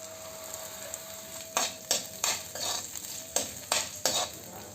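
Ginger and three green chilies frying in a pan for a Kerala-style tapioca curry, a steady sizzle broken by about seven sharp stirring scrapes of a spoon against the pan, close and alone with no voices.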